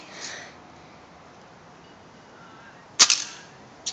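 An airsoft gun fires a single sharp shot near the end, a quick snap followed by a brief rattle, after a stretch of quiet background.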